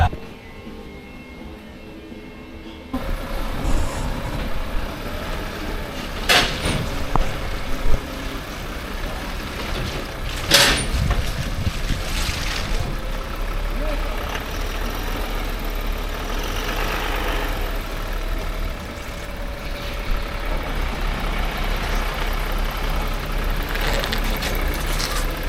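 A 2024 Toyota LandCruiser 300 Series GR Sport rolls along on new Kumho AT52 all-terrain tyres, giving a steady low road and engine drone inside the cabin with a few sharp knocks and clicks over it.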